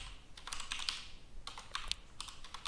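Someone types code into Roblox Studio on a computer keyboard: quiet, close clusters of quick keystrokes broken by short pauses, with no voices.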